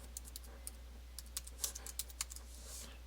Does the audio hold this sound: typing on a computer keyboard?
yes